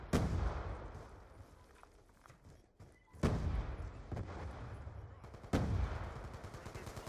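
Bursts of gunfire and sharp blasts crack repeatedly in Call of Duty: Black Ops 2, with several loud C4 and RPG explosions standing out over a noisy, chaotic battle soundscape.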